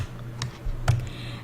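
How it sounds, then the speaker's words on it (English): A few crisp computer keyboard key presses, close and isolated, with two sharper clicks standing out over a low background hum. "you just click on M on your keyboard for the material editor"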